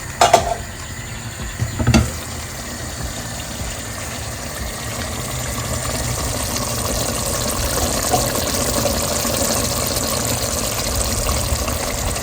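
Water and dissolved tamarind poured into a pot of basmati rice for Bombay biryani, a couple of clattering knocks at first, then a steady rushing, bubbling flow close by.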